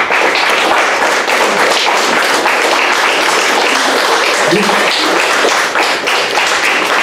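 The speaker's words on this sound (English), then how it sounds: "Give them a big round of applause." A crowd at a reunion show gives a big round of applause. The clapping is loud, continuous and densely packed, and a brief voice rises faintly beneath it midway.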